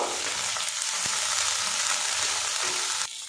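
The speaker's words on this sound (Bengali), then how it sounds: "এগুলো আমি একসঙ্গে ভাজা ভাজা করে নেব" Chopped green chilli and ginger garlic paste frying together in oil, a dense close sizzle with occasional stirring knocks, steady throughout before a brief drop at the end.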